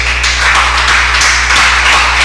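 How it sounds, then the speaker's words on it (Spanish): A church congregation bursts into applause, a dense continuous wash of many hands clapping loudly for a couple of seconds. "Dale un aplauso a Él."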